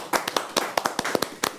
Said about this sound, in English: Right, let's applaud.